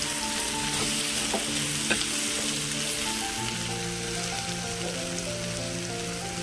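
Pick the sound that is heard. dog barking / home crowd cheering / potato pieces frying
potato pieces frying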